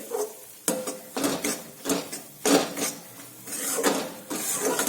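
Bajra (pearl millet) flour roasting in a pan, with repeated close scraping and clinking strokes of a spoon against the metal in an irregular stirring rhythm, no voices.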